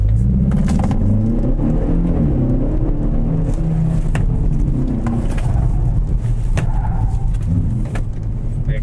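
A Hyundai K3 GT pulls away at the Inje Speedium race track during a driving experience session, its engine a steady loud rumble and whir that builds and holds against outdoor ambience.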